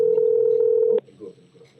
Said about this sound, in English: I hear it ringing.